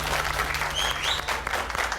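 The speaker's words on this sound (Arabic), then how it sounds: "تصفيق." A studio audience on a game show breaks into brief, dense applause, loud and sustained for about two seconds with some crowd noise mixed in.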